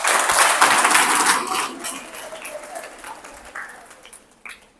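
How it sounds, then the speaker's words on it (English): An audience at a career guidance program breaks into loud applause that gradually fades over a few seconds. "So just give good round of applause."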